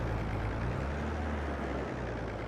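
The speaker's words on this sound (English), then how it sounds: "Proper tractor sound." A tractor engine in Farming Simulator 22 drones steadily with a deep, loud rumble, shifting slightly in pitch as it changes gears, heard alone and close.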